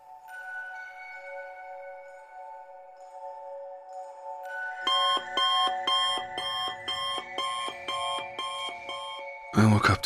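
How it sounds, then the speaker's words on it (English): A digital alarm clock sounds a tonal chime, then switches to rapid, insistent repeated beeping in pulsing bursts, loud and close, ending with a thump. "I woke up to the sound of my alarm blaring at me, the shrill beeping"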